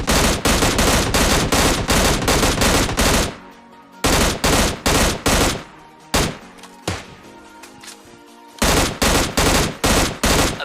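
Sustained bursts of M60 machine gun fire in the mobile battle royale game PUBG Mobile Lite, loud and close, in several long rapid volleys separated by brief pauses.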